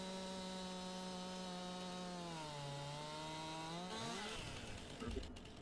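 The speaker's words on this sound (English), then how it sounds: "it's not stopping this chainsaw from going through" In Farming Simulator 19, a chainsaw bites into a thick tree, its whining motor holding a steady pitch, dipping under load, then rising as the cut finishes, with a woody crack near the end.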